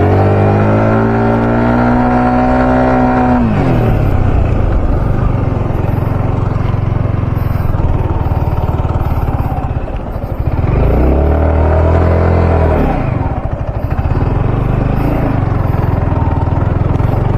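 A car engine revs loudly and continuously up close as it strains on beach sand at Querim Beach, Goa, rising and falling in pitch, with a brief dip partway through.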